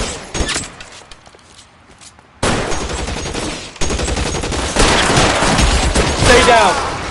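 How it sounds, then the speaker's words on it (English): Gunfire in the L.A. Noire video game: a few sharp shots at first, then a sudden loud burst of rapid shooting that swells and continues to the end, with game voices mixed in. "Try shooting someone with a gun of his own."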